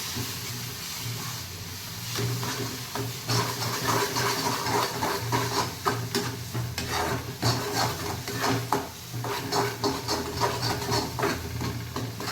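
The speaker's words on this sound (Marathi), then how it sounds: "तेलामध्ये छान असं परतून घ्यायचं आपल्याला" Ground masala paste sautéing in oil for a home-style fish curry, a dense continuous sizzle and hiss with repeated spoon scrapes against the pot, heard close and without talk.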